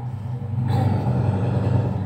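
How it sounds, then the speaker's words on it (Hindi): A car pulls up close by, a steady low engine rumble swelling after a brief quieter start and holding loud and continuous to the end, with no talk. "गाड़ी की आवाज़ से पता चल रहा है कि वो आ चुके हैं।"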